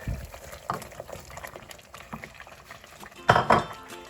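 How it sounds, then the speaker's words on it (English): Crushed potatoes tip into cooked masala in a pan, with a few soft thuds and scrapes of a spoon against metal over a quiet sizzle, close and moderate in volume. "this is the time when we are going to add our crushed potatoes"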